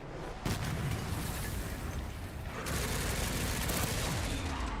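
Sustained gunfire aimed at Leon in Resident Evil 9 Requiem, a dense, continuous barrage of shots filling the whole stretch and swelling louder partway through.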